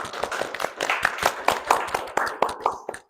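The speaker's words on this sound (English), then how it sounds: "let's give them a round of applause" An audience at an art exhibition talk gives a brief, thin round of applause, a few distinct hand claps in an irregular patter, fairly quiet and with no talking over it.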